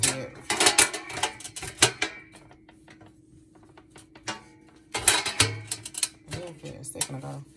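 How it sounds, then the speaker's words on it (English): A roasting pan set onto the sheet pan of a Ninja Foodi XL Pro Air Oven, giving clusters of metallic clanks and scrapes near the start and again near the end, with a quieter stretch between; no talk. "You put the roasting pan on top of it, just like a broiler pan that you have."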